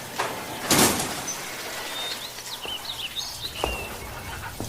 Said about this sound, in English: Door open.